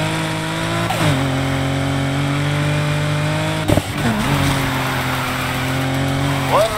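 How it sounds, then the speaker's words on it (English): A car drifting in Need for Speed Heat, engine droning at a steady pitch with sharp drops and rises as it shifts and slides, loud and close throughout with faint tire squeal. "Drifting at its finest."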